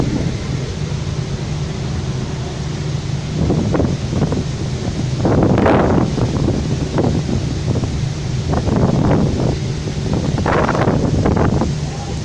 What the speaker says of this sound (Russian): Ливень на море.